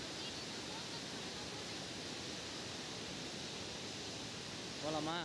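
The Hogenakkal waterfall pours in a steady, broad roar of rushing water that fills the whole clip, with a faint voice-like sound at the very end.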